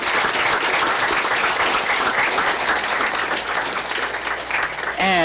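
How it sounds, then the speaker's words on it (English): A school board meeting audience gives a big round of applause, dense and steady clapping from many hands that fills the room without a break for about five seconds. "Let's give a big round of applause to Ms. Hurtado"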